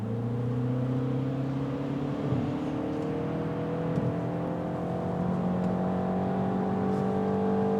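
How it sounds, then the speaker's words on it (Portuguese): Inside the cabin of a 2025 Mini Cooper S with a dual-clutch gearbox, a steady droning engine note climbs in pitch under acceleration, partly boosted through the speakers, loud and continuous with road rumble beneath and no talking. "O ronco parece que tem algum tipo de complemento, vamos dizer assim, pelos falantes"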